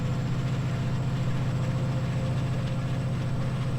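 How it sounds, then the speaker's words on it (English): A Class 68 diesel locomotive in Train Sim 2020 gives a steady, deep throbbing engine drone with a constant low hum and even pulsing, heard alone without any change in pitch. "quick look outside, hear the engine."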